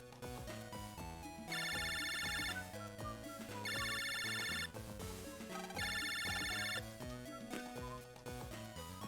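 A telephone rings in a video game as three evenly spaced bursts of a bright electronic trill, each lasting about a second, sounding over looping game music with no talk.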